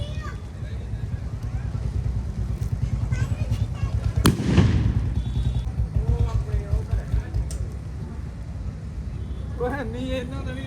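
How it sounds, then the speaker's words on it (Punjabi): Firecrackers go off outside a salon during Diwali celebrations, with a sharp bang midway amid a dense crackling, popping background, while people talk and shout nearby. "ਸਲੋਨ ਦੇ ਬਾਹਰ ਵੀ ਆਪਾਂ ਬੰਬ ਚਲਾਉਣੇ"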